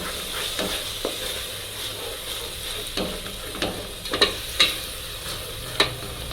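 Masala mixed with curd is stirred gently in a pan and left to simmer on a low flame, giving a soft continuous sizzle punctuated by scattered sharp scrapes and clinks of the spoon against the pan.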